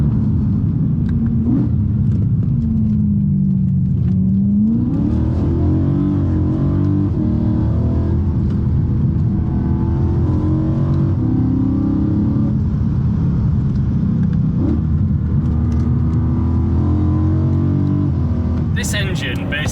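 A BMW M3 Saloon engine with individual throttle bodies roaring and revving loudly from inside the car, a continuous heavy rumble that rises and falls through the gears while people talk over it.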